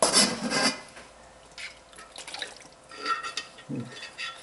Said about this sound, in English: Now I'm going to pour this into my big pan.